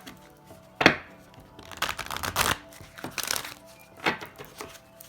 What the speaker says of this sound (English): Okay, 3 shuffles.